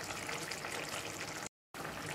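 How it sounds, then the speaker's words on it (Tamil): Ground coconut paste pours steadily into a pan of drumstick masala, a soft continuous liquid trickle, close and fairly quiet, cut off by a short gap near the end. "இந்த அரைச்சதை இதில் அப்படியே ஊற்றிடலாம்."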